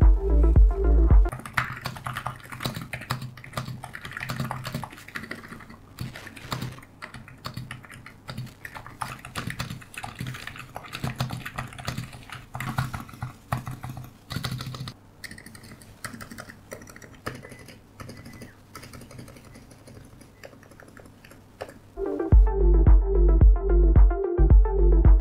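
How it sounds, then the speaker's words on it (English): Rapid, continuous clatter of keys on a Razer Huntsman Mini mechanical keyboard with Razer Red switches, muted and fairly close, followed by louder rhythmic tones near the end. "The Razer Red switches that I have inside of this keyboard offer a much more silent typing experience"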